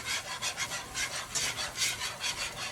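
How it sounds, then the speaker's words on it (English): Rhythmic rasping strokes of a whisk scraping through cheese sauce in a pot for mac and cheese, steady and fairly close, with no talking. "You're going to be whisking for a pretty good amount of time."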